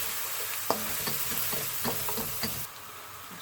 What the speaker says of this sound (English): Sizzling off, that certainly thickens up the oil.